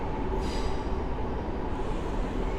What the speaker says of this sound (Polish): I ten skład właśnie wjeżdża na tor 8 przy peronie czwartym